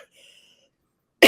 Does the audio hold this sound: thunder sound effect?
no